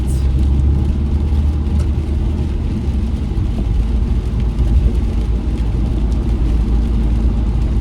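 Car driving along the road, heard from inside the car as a loud, steady low rumble of engine and road noise that runs unbroken throughout, with no talk.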